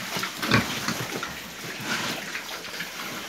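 Pigs eating SIDC feed make close, wet chomping and slurping noises with occasional grunts, a busy, uneven feeding clatter lasting a few seconds.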